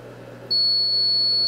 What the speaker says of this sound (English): The battery alarm is successfully working.